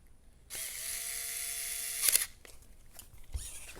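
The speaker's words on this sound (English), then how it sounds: "you can actually tighten it very nicely with the screw gun" A screw gun tightens a screw on a TRX-4 Sport RC truck servo winch plate, a close high-pitched whirring motor run of about a second and a half ending in a ratcheting strain, followed by faint handling clicks.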